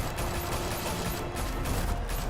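Gunfire in the video game Batman: The Telltale Series: a sustained, rapid automatic burst, loud and continuous for the whole stretch, with no talking.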